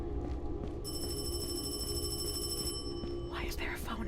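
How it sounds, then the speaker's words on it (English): A phone rings in a sewer in a horror video game, a high electronic trill that holds steady for a couple of seconds, faint behind a low murmur and quiet talk. "Why can I hear a phone in the sewer?"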